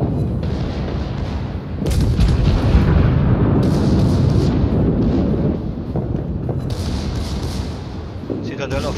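Battleship cannons of the Friedrich der Große firing in World of Warships, heavy booming blasts rolling into a dense, loud barrage that swells and fades in waves, with voices talking over it.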